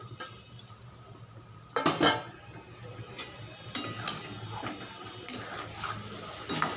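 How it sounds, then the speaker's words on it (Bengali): A spoon stirs and scrapes a paste of onion, ginger and garlic spices in a pan for chicken makhani, giving scattered clinks and scrapes at an uneven pace, close by. "এবারে ভালো করে নেড়ে চেড়ে একটু মশলাটাকে কষিয়ে নেব।"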